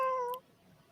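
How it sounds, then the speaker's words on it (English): A cat gives a single short, clear meow near the start, then the rest falls to a quiet background hum. "Where'd the kitty sound come from?"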